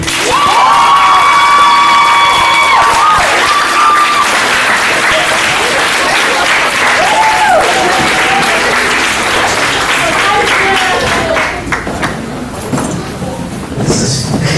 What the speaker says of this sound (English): Let us please give a thunderous applause and standing ovation